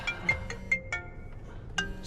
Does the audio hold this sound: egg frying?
no